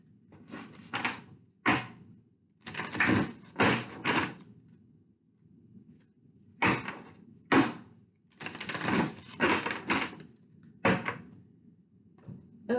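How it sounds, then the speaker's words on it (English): A deck of cards is shuffled in a series of quick, crisp bursts of fluttering clatter separated by short pauses, heard close and alone. "Let's shuffle this deck for Earth"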